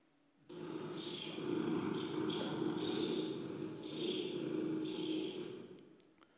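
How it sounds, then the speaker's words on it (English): A cat purrs steadily and softly for about six seconds, with a low rumble that swells and eases in rhythm with its breaths. It is close but quiet, with no talk. "So the cat purring"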